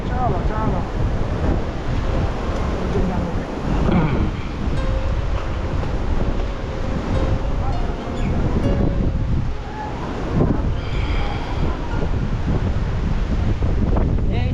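Sea waves wash against a rocky seashore while strong wind buffets the microphone, a loud, continuous roar of surf and gusts with no clear breaks.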